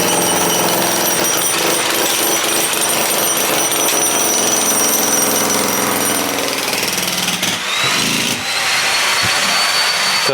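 A jackhammer pounds away continuously, harsh and loud, breaking up hard ground nearby, briefly dipping near the end before resuming.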